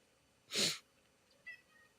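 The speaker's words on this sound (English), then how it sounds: "And my cat just agreed with me" A single cat meow sounds fairly close in a quiet indoor room, loud and brief, followed by a fainter short chirp-like trailing sound.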